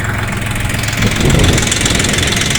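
Yuto tractor engine running steadily while working a slope, a loud continuous mid-pitched drone with a rhythmic knocking pulse that swells slightly partway through, with no talk.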